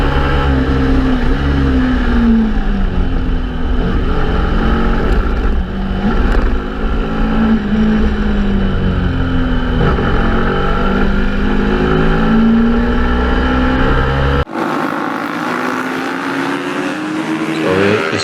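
A Suzuki racing motorcycle on a track at a practice day roars loudly and continuously, its engine pitch rising and falling through gear changes before the sound cuts abruptly to a quieter, duller drone.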